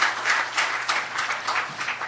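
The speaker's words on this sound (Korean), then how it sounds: "박수로 환영해 주시기 바랍니다." An audience at a church social-service policy forum applauds to welcome a professor, a moderate, steady patter of clapping throughout with no talk over it.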